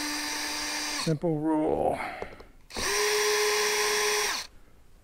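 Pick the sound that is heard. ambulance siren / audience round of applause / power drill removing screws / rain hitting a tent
power drill removing screws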